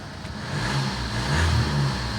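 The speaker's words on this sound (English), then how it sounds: "There you go, a little bit rough starting without the glow plugs." A Vauxhall Insignia engine running roughly without its glow plugs, a close, uneven mid-pitched idle that rises slightly and keeps a rough, lumpy drone, with no voices over it.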